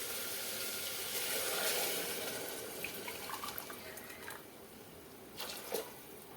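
Lukewarm water pours steadily into a pressure cooker holding chickpeas, a continuous close splashing wash that swells briefly before settling and ends with a few small clinks, with no talk.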